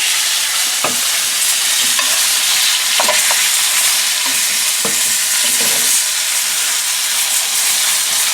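Oil and flour browning in a pan for chicken Marsala, a loud steady sizzle and hiss broken by a few scraping stirs of a utensil, with no talking.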